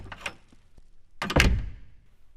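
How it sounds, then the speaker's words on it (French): Heavy knocks strike a door in a French audiobook reading of Le Petit Poucet, with a few scattered thumps followed by a cluster of three or four loud, booming blows, close and with no voice over them. "ils entendirent heurter 3 ou 4 grands coups à la porte"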